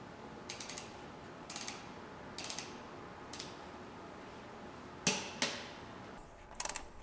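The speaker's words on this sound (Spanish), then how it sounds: "Apretamos con la dinamométrica, en este caso en la R1," Torque wrench tightening the rear wheel bolts on a Yamaha R1M motorcycle, a series of short ratcheting clicks in separate bursts with pauses between them, close by and fairly quiet.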